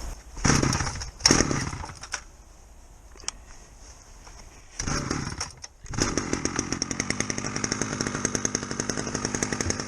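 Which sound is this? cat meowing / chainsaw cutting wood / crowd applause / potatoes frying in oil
chainsaw cutting wood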